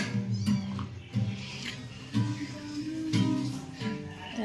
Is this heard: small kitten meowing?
yes